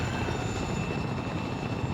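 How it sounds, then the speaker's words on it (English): Helicopter in the military game Arma 3, a steady loud rotor and engine drone with continuous low thumping, close and unbroken throughout. "that's good for when you're learning how to fly a helicopter. But, bring this thing down."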